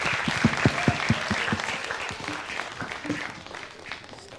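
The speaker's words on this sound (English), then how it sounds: "A round of applause for Janus Education's Managing Director" Audience applause welcoming Janus Education's Managing Director at a children's literature event, a dense burst of clapping hands that starts with sharp distinct claps and gradually thins and fades over several seconds.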